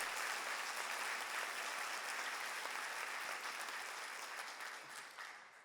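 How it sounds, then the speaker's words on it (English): Dense, sustained applause from the audience at a university presidential investiture ceremony, a full even roar of many hands clapping that begins to fade away near the end, with no voices. "Let's give them all a round of applause."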